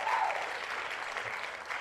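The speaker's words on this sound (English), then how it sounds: "shout out to everyone that's giving me the applause" A studio audience applauding at a podcast recording, a dense, steady wash of clapping that fills the whole moment with no voices over it.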